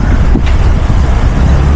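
Strong wind buffets the microphone in a loud, continuous low roar with gusty fluctuations.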